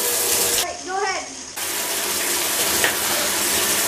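A thick rotten banana mixture is poured over a person sitting in a bathtub, making a close, splashy gushing pour with a brief squealing voice in the middle.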